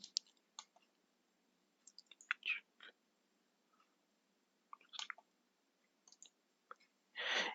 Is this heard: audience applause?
no